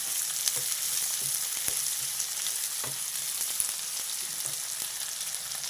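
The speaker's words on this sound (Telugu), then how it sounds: "దీంట్లో కొంచెం సాల్ట్ వేసేద్దాం తొందరగా వేగుతాయి ఉల్లిపాయలు" Sliced onions frying in a pan with salt, producing a steady, dense bright sizzle with occasional small pops and stirring clicks, close and even throughout, no talking.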